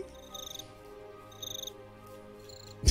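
Crickets chirp in the Minecraft video game, three short trilling bursts spaced about a second apart over a steady background hum, ending with a sudden loud thump.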